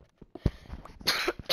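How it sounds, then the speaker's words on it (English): A few short, raspy coughs break out at uneven intervals, close to the microphone, with quiet pauses between them. "Cough, cough. Cough. Cough, cough, cough."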